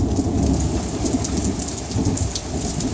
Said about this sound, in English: So we're out here enjoying the hot summer rain.